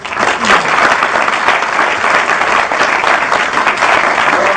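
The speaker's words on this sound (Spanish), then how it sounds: "Un aplauso para Darío" Sustained applause from a crowd at a public event, loud and steady throughout with dense clapping and no voices standing out.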